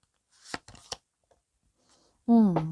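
Tarot and colour cards are turned over in a few quick, crisp flicks close by, then quiet before a voice begins speaking at the end.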